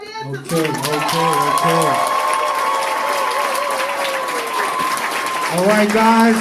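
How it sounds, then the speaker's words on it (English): Audience clapping after a dance recital show, continuous applause under a long sung or sustained voice, with a voice talking at the start and end. "Big round of applause for our show tonight."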